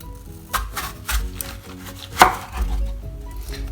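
A knife cutting peeled cucumber into medium pieces for Kerala-style pulissery, several distinct chops knocking on a cutting board at an uneven pace, close and fairly quiet.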